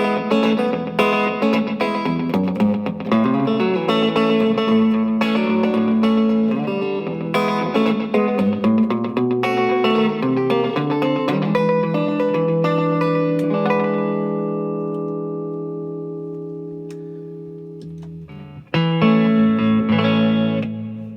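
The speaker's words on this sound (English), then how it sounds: "a little bit of plate reverb for slapback" Electric guitar on the bridge pickup through a Sub Zero 20R valve amp with short plate reverb slapback, playing a bright, lightly driven rockabilly line of chords and single notes that rings out and fades before a final strummed chord.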